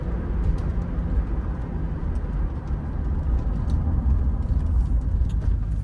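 The V8 engine of a British Racing Green Range Rover Classic, recorded from inside while driving, gives off a steady, broadband rumble with road noise. The level rises gently as it revs, and no voices are heard.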